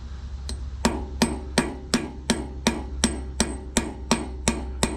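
A hammer strikes a Red Head wedge anchor being driven into concrete. About a dozen sharp, evenly spaced metallic blows land close by over a low background hum, with no talking.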